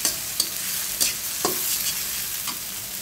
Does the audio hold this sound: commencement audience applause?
no